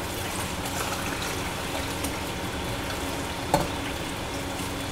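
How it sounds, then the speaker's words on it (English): Dishes being washed in a home kitchen: a soft, continuous wash of running water and scrubbing, with one sharp clink of dishware partway through. "Gonna clean our dishes"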